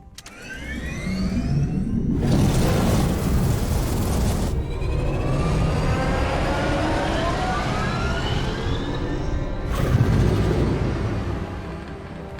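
A grav cycle in the video game Disintegration starts up with a loud engine roar and rising whine, holding a sustained mechanical hum with brief bursts, alone without voices.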